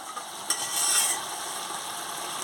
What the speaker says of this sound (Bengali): ঢাকনাটা খুলে ভালো করে নাড়িয়ে নিচ্ছি।